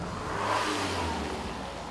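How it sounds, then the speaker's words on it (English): A 2021 Mercedes-Benz GLE 350 with a four-cylinder engine pulls hard under acceleration, a steady, close engine drone and road rush holding at one level throughout with no talk. "Acceleration, it's nice and strong. And if it wasn't for the way it sounds, you'd have no idea it was a 4-cylinder in the first place."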